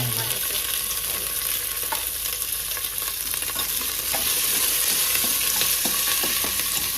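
Ginger and garlic frying in oil for mutton curry, a continuous bright sizzle with scattered stirring scrapes and clicks, steady and fairly loud with no talking.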